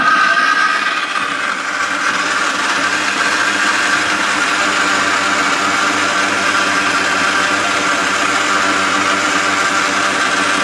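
An electric blender runs continuously at a loud, steady whine with a rough motor drone, close and unbroken from start to finish.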